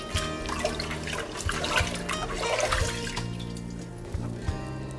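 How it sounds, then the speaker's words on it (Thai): Rice rinsed in water before cooking, with steady sloshing and running water close by, fairly loud and continuous, with no talk. "นำข้าวไปล้างน้ำให้สะอาดตามปกติที่เราเคยหุงข้าวโดยทั่วไปนะคะ"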